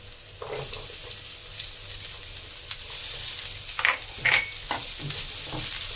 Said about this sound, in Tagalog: hayaan lang natin mag-brown din ang ating onion